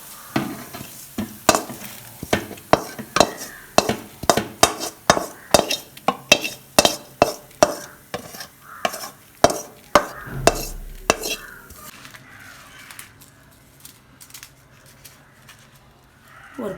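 A spatula scrapes roasted pirandai from a pan and pours it out, with a steady run of loud, rhythmic scraping strokes that fade to quieter rustling near the end.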